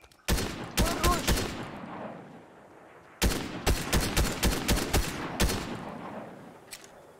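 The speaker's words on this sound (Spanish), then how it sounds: "Hay más disparos, va." Fortnite gunfire rings out in two sharp bursts of rapid shots, each a quick cluster of loud cracks with a pause between, and a faint lone shot near the end.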